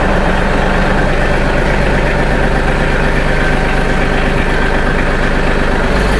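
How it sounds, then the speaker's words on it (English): A Mahindra Max 26XLT compact diesel tractor idles close by, its low, steady rumble and vibration holding even and unbroken with no voices. "warm up the glow plugs, fire up Mahindra Max, pull her out"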